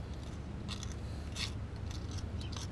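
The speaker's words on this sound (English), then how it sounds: "cleaning all the old gasket right here" A tool scrapes old gasket material off a Honda engine surface during a timing belt and water pump job, giving short, faint scratching strokes over a steady low hum.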